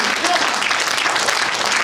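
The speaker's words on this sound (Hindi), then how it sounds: "जरा तालियां होनी चाहिए, अद्भुत पंक्ति है।" Short burst of loud, dense audience clapping at a Hindi poetry recital, with a voice mixed in among the applause.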